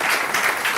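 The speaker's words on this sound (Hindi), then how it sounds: "आप ताली बजा सकते हैं" Audience applause fills the moment as a dense, even wash of many hands clapping at a talk, steady and fairly loud throughout the brief burst.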